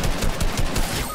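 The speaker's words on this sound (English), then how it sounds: "I just got sniped in the back." Gunfire in a first-person shooter video game, a dense, loud, continuous burst of shots filling the moment with no speech.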